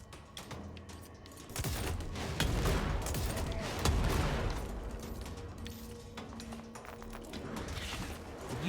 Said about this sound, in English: Gun has charge! Oh my god, you waste no time shooting.